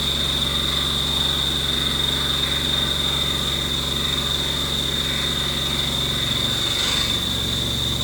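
An Iscar high-feed cutter mills titanium on a Haas Mini Mill, giving a steady, loud machining drone with a sustained high whine over a low hum, running continuously throughout.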